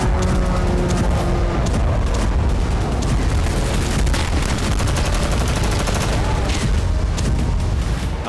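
A Russian army mortar attack near Robotyne with high-explosive shells makes a dense, continuous roar of blasts and rapid cracking gunfire. The sound is loud and unbroken for the whole stretch.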